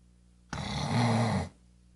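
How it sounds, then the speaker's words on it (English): A single loud cat snore, one rough, rasping breath lasting about a second, close by against near silence. "Miracle snores pretty loud."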